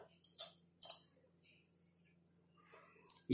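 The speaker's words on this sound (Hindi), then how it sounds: "अब इसमें हम मिलाएंगे आधा चम्मच बेकिंग सोडा" Half a spoonful of baking soda is stirred into a glass of water, giving a few light, close clinks of a metal spoon against the glass, separated by quiet pauses, with soft breathy sounds.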